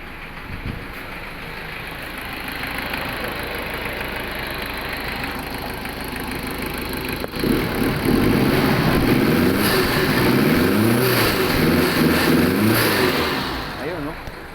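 A smoky Toyota 1KZ diesel engine, oil coming from its exhaust, runs at a steady idle and then rises into a louder, throatier raised-rpm drone, heard up close.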